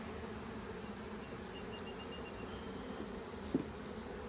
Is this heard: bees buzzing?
yes